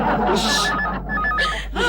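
A telephone rings at home in two loud bursts of trilling electronic tones separated by a short pause, close and clear with no talk over it.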